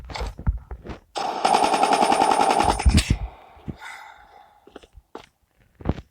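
Gunfire in the Call of Duty video game, a sharp single shot and then a sustained loud automatic burst of about a second and a half, followed by scattered clicks and a few more sharp shots, all close and with no talking.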